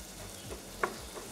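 Shallots and carrot frying in olive oil give a soft, steady sizzle close by, with one brief sharper crackle partway through and no voices.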